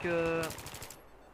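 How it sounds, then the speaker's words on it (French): Rapid automatic fire from an M16A3 assault rifle in the video game Battlefield 3, a loud burst of closely spaced shots over a music bed that cuts off and fades within about a second. "la M16A3 ne tire pas comme dans un Call of Rafale de 3, c'est une arme qui tire normal, comme une mitraille, comme un fusil d'assaut"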